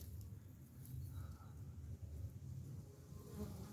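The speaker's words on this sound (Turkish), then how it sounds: "bugün meşe ağacı köküne yuva yapmış bal arılarını çekim yapacağız" Honey bees buzz steadily and continuously close by at a wild nest in an oak tree's roots in a forest, a dense droning hum with no voices.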